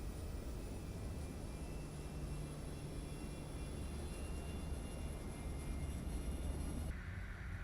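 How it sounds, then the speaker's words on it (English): Simulated CRJ airliner cabin with the APU running and air packs blowing, a steady broad whoosh and faint whine, quiet and constant, with a slight shift in the hum near the end. "So APU is spooling up. Packs are on. There we go. You just heard them come online."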